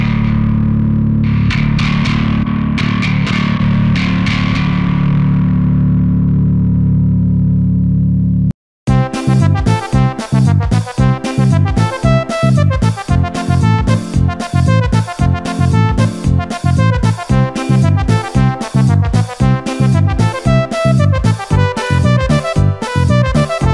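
Bass guitar through a DarkGlass pedal or Neural DSP plugin: a clean held chord with a few plucks, a brief gap, then heavily distorted, gritty bass riffing with dense rhythmic attacks for the remaining fifteen seconds, loud and alone.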